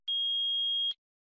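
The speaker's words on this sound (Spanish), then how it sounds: "Si el multímetro marca 1 y emite un pitido" A multimeter on continuity test gives a single steady high-pitched beep lasting just under a second, clean and clear against silence, then stops.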